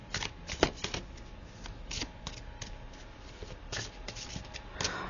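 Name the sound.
shuffling oracle cards for a reading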